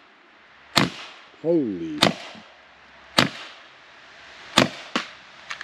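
A Steambow Stinger 2 crossbow fires sharp, loud snapping shots, about five in all, spaced a second or so apart, with a brief voice exclaiming between them.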